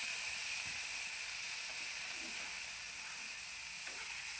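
Oil heats on a tawa with a steady, even hiss and faint sizzle, close but quiet, constant throughout with no talking.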